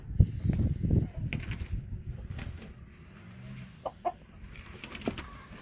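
Roosters and hens in a pen cluck and squawk nearby, with a burst of loud calls at first, then scattered softer clucks and short cries.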